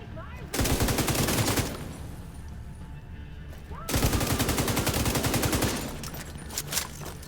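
Automatic gunfire in the video game Pestilence, a PvE loadout, rips out in two long, dense bursts of rapid shots that are loud and continuous, with a brief lull between them.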